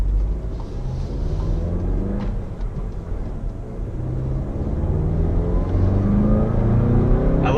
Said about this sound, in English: I love that you can hear the turbo spool up